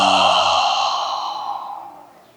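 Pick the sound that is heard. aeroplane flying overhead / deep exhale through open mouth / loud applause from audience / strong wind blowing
deep exhale through open mouth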